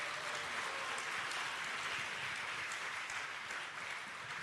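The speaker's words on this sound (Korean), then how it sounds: "인사드리실 적에 여러분 뜨거운 격려의 박수 부탁드리겠습니다." Sustained applause from an audience at a church general assembly candidates' public hearing, a dense even wash of many hands clapping steadily throughout with no talk over it.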